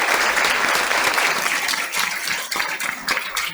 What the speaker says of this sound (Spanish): Un aplauso para todos y todas.